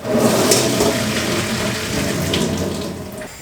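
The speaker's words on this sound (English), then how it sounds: "The noodles are ready. I'll put them through the colander." Water from cooked ramen noodles pours through a colander in a kitchen, making a steady rushing splash that stays close and fairly loud for a few seconds before it tapers off.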